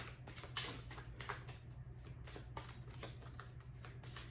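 Tarot cards are shuffled by hand in a steady run of soft riffling and flicking, close to the mic and fairly quiet over a low background hum.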